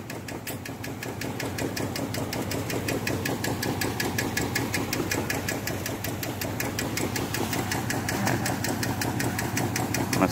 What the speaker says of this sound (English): Ayak mesin. Ayak mesin elean.